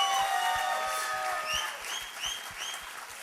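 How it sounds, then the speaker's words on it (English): An audience applauds after a speech at a humorous speech contest, a steady patter of clapping that slowly fades over a few seconds. "All applause for Alex"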